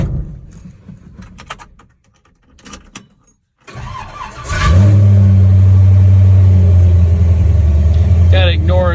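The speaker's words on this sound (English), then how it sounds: "This is going to be the first cold start since the upgrades." A supercharged Chevy LUV engine with a bigger accelerator pump and new main jet cranks briefly, fires on a cold start and settles into a loud, steady idle, after some handling noise and quiet voices.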